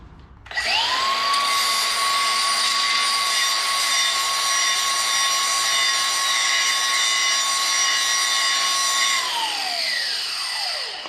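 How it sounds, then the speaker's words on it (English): A small 20-volt cordless grinder spins up and runs steadily at a high whine for about nine seconds while working on pipe, then winds down, loud and close with no talk. "I've got my little 20-volt grinder here, and it works a lot quicker."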